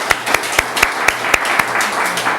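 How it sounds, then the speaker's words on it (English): Meeting audience at a Costa Mesa general plan session applauding city staff with steady, fairly close clapping from a modest crowd, several distinct sharp claps standing out in a brief burst. "I want to applaud them for their time"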